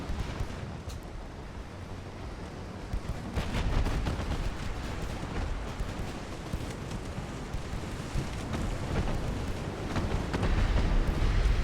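Naval main and secondary battery guns fire from dreadnought-era warships in the Ultimate Admiral: Dreadnoughts naval battle game, a dense, continuous barrage of heavy booms and sharp reports that swells louder partway through and keeps rolling.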